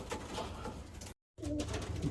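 Racing pigeons coo softly in a loft, with a low, murmuring flock sound that continues steadily and is broken by a brief gap.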